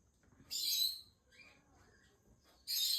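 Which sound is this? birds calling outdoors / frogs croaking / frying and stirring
birds calling outdoors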